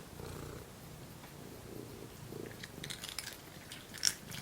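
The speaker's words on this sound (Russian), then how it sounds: "И едят, и мурчат, как трактор." Steady low rumbling purr from a nearby cat eating, with soft wet chewing and crunching sounds layered on top and a brief sharper click near the end.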